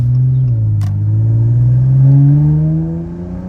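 A Dodge Challenger SXT with its muffler deleted, its engine note climbing in a steady, loud, close rumbling pull for a few seconds before easing off.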